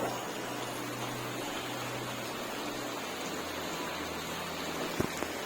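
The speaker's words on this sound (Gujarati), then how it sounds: "સવારમાં ખૂબ જ વરસાદ પડી રહ્યો છે." Heavy morning rain falls over a housing society in a dense, steady hiss with a low hum underneath and a single brief knock near the end.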